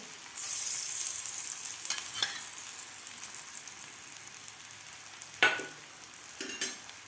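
Thalipeeth of soybean and finger millet frying in a little oil in a pan, a soft continuous sizzle with occasional crackles and a couple of louder spatters.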